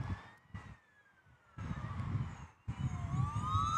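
Emergency siren from a four-wheel drive ambulance at an airport, its wailing sweeping tone rising and falling in bursts, growing louder and continuous toward the end alongside traffic rumble.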